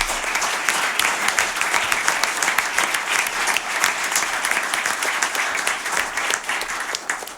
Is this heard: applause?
yes